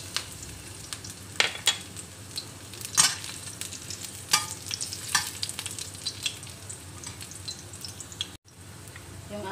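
Garlic and onion sauté in hot oil for a moringa-pod dish, a continuous crackling sizzle with frequent scraping taps of a spatula stirring in the pan and no talking.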